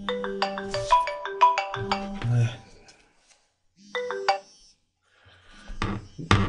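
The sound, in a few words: phone ringtone during a chess game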